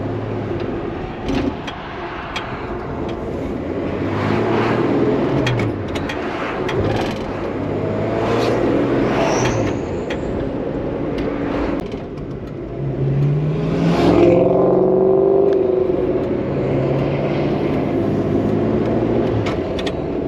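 A Dodge Dart's engine hums and revs as the car drives, rising and falling in pitch over a steady road rumble, with no speech.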